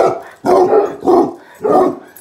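A dog barks at home during morning pancake making, four loud, close barks with short gaps between them and no talk over them.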